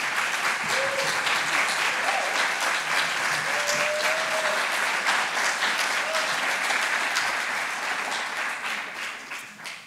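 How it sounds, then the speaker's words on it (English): A warm round of applause from an audience at a business plan competition finals, honouring participants as they stand; dense, even clapping fills the room, holding steady before slowly tapering at the end. "could you please stand so that we can give you a warm round of applause?"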